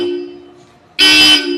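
Bosch Europa car horn fitted to a Mitsubishi Mirage G4, a single loud, bright blast of about half a second sounding close over a steady engine hum.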